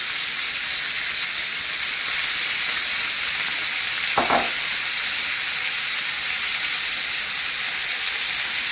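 Beef stock hitting a hot goulash pan to deglaze it, a loud continuous close-up sizzle and steamy hiss with a short utensil knock near the middle, otherwise even throughout.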